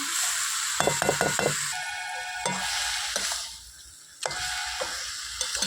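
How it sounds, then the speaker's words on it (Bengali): Food is stirred in a cooking pot over a wood-fired stove, with a quick run of close metallic scrapes and clinks over a soft sizzle, then a few more scrapes after a pause. "এইবার আমি নেড়ে চেড়ে দিলাম।"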